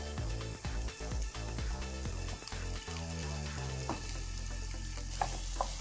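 Onions sauté in a little coconut oil for Kerala-style beef pepper roast, with a soft sizzle under clattering, stirring knocks and scrapes that grow sparser toward the end.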